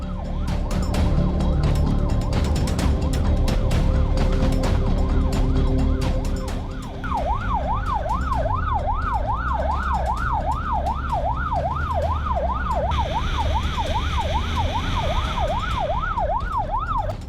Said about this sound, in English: in a relentless police pursuit with sirens blaring